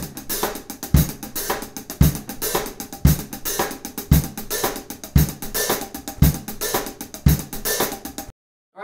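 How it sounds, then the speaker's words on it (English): A steady 16th-note drum groove with crisp hi-hat that lifts open into a washy sizzle on the ah of one and snaps shut on beat two, kick and snare repeating evenly, then stopping abruptly. "the third option would be to lift the hi-hat on the ah of one and close on beat two."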